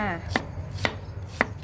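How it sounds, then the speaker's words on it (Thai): Three crisp knife chops through shallots land on a cutting board at a steady, unhurried pace, close and fairly quiet. "หั่นหอมก่อนค่ะ"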